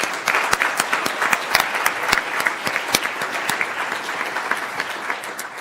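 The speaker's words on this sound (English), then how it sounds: "so please give them all a round of applause" An audience at a startup pitch competition final applauds the participants, with dense, lively clapping close up that stays strong before gradually thinning and softening toward the end.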